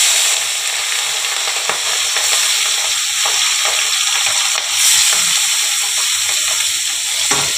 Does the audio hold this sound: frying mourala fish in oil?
yes